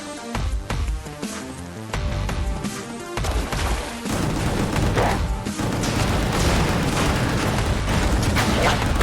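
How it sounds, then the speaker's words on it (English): Gunfire and explosions from the video game Gungrave GORE crackle in dense bursts over a loud, tonal game score, with the blasts growing thicker and more continuous in the second half. "There's so many explosions going on."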